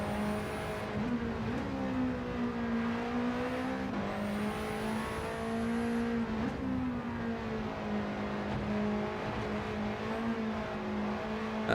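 A TVR in a racing video game roars past with a loud, sustained engine note that climbs and drops through gear changes, continuous and close throughout.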